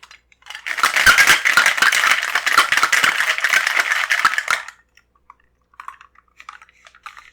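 Ice rattles hard inside a cocktail shaker for a White Lady made with triple sec and lemon juice, a dense, steady rhythmic clatter lasting about four seconds, then a few faint clinks as it stops.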